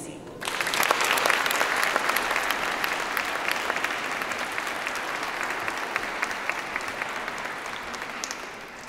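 Warm, steady audience applause welcoming a couple, Scott and Nancy, to the stage, starting abruptly and holding as a dense clapping wash for several seconds without fading.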